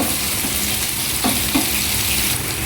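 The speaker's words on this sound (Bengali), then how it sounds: "পেঁয়াজগুলো বেশি ভাজা ভাজা করা যাবে না" Onions for a mustard pangas fish curry fry in a pan with a steady, dense sizzle, and a couple of soft stirring clicks come through the continuous crackle.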